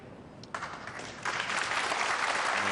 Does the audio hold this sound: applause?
yes